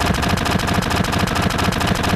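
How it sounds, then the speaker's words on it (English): Gunfire in the video game Final Fantasy VII, a loud, continuous rapid rattle of machine-gun shots with no pauses. "So, they're able to shoot that old man, but they can't hit Barrett."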